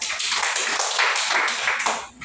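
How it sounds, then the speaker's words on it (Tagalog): A class of students claps for classmates during a Filipino demo lesson, a brisk burst of many hands together that stays even and fills the room, then tapers off at the end. "Bigyan natin ng 5 palakpak sila Emily at Jaya"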